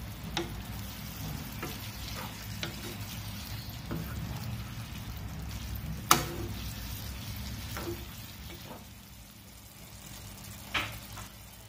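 Coconut dry prawn curry is stirred in a pan, giving a steady low sizzle with soft scraping and scattered clinks of the spoon against the pan, plus one sharper knock.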